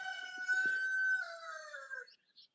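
A rooster crows once in a backyard chicken coop, a clear, drawn-out call that rises and then trails off, close and alone with only faint clucks near the end.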